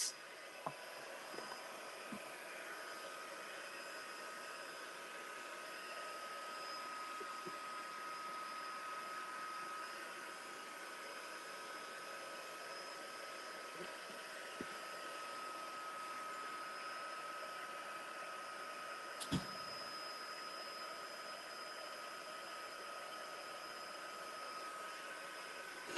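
A dryer blows on a mixed media artwork. Its steady whirring hiss carries a constant whine and runs the whole time, broken only by a few small taps and one sharp knock.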